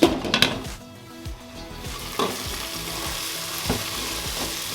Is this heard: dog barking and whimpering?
no